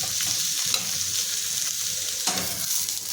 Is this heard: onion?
yes